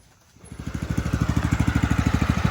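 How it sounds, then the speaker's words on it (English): A Husqvarna YTH1542 riding lawn mower engine starts from near silence and settles into a close, loud, steady idle with an even rapid chugging pulse. "as you can hear, mower's idling beautifully"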